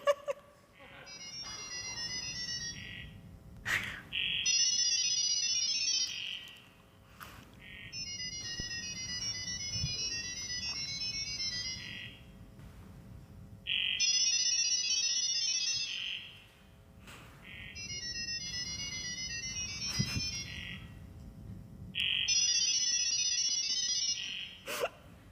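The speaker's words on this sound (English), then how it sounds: "You must love the dial-up sounds of the 1990s." Dial-up modem sounds from the 1990s come in bursts of high warbling, screeching tones that repeat about five times with short pauses between them, faint and distant with a low murmur underneath.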